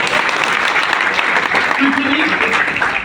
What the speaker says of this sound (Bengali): জোরে একটা হাততালি চাই।